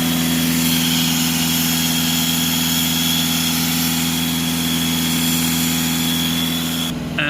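A Mercedes C Class 2.1 CDI diesel engine, with a differential pressure sensor fault, holds steady at raised revs of about 2500 RPM with the accelerator held open, giving a loud, even drone that cuts off abruptly near the end.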